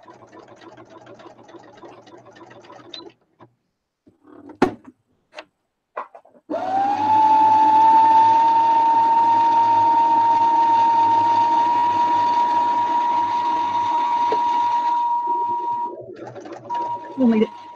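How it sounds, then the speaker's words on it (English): A home sewing machine rewinding its bobbin, a steady high motor whine holding for about nine seconds before winding down, with cooing pigeons and brief talk around it. "I'm just rewinding my bobbin because when it gets a right down low, it starts looping."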